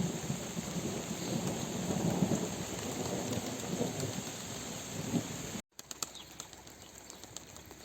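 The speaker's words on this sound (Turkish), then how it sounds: "dolu şeklinde yağmur başladı" Heavy rain pounds down in a dense, steady roar with rumbling thunder underneath, then cuts abruptly to sharper scattered impacts of hail.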